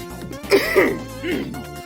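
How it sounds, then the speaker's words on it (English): A man with a lingering illness coughs and clears his throat in a few rough bursts, close and fairly loud, during a Nintendo handheld gaming session at Christmas. "I got cough."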